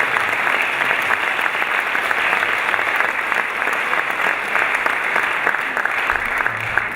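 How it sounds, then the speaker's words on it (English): A conference audience gives the panelists a sustained round of applause, loud and dense clapping from a large crowd that holds steady for several seconds. "All right, could we give our panelists a high-quality round of applause?"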